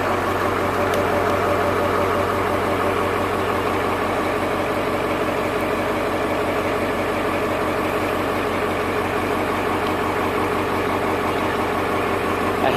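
A Ford tractor engine idles steadily after an alternator repair, a continuous, fairly loud low rumble with an even mechanical throb and no talk over it.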